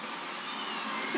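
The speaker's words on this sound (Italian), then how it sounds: "Scusate il rumore del robottino" A robot vacuum cleaner runs indoors with a steady, broad whooshing hum that swells slightly louder toward the end, with no voices.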